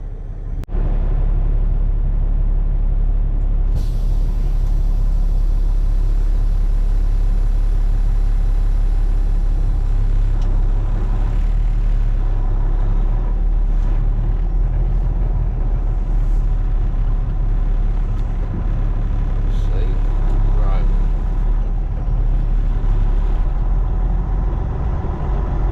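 Truck driving on the road in Indiana, a heavy continuous engine rumble and road drone from inside the cab, loud and steady throughout with a brief hiss early on.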